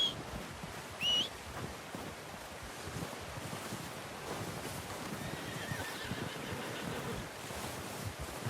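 A horse whinnies once near the start in Red Dead Redemption 2, a short bright neigh over a steady outdoor wash of wind and surf-like ambience, followed by soft hoof movement and background rustle.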